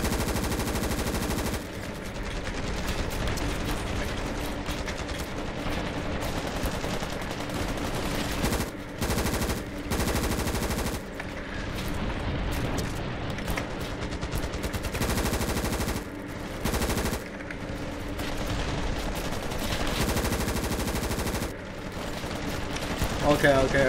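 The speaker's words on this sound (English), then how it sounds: "The M16A1 has a high fire rate, not gonna lie." Sustained automatic fire from an M16A1 rifle in the Ravenfield game, loud, dense bursts of rapid shots running almost continuously with a few short breaks, and someone talking over the shooting.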